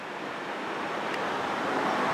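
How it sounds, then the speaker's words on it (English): A steady, broadband rush of wind blows on a breezy spring day in Canton. It sounds close and continuous and swells slightly toward the end, with no voices present. "It is rather breezy."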